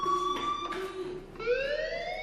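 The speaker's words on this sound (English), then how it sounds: "do you hear that fire alarm? That means you should be outside." Fire alarm from the Life Is Strange video game, a steady electronic siren-like wail with held tones that slide and rise, sounding loud and continuous with no talk over it.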